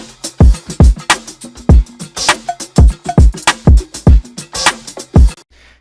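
Breakbeat drum sample playing within a full hip-hop beat: punchy kicks and snares in a steady looping groove with bright cymbal hits, loud and upfront, ending abruptly.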